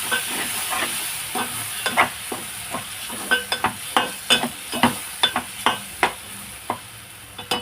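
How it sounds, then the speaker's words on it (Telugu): A spoon scrapes and clacks in a pan while chili powder is stirred into frying cauliflower and potato curry, sharp rhythmic knocks repeating over a soft constant sizzle, close and clear. "ఒకసారి కలుపుకున్నాం."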